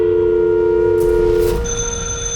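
A telephone rings with a steady electronic trill, loud and close, and no one speaks over it.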